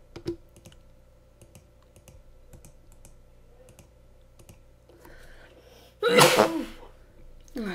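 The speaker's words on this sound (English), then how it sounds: "Sorry about that sneeze." One loud, sharp sneeze bursts out near the end over soft, steady computer keyboard typing and clicks while a Minecraft game is played.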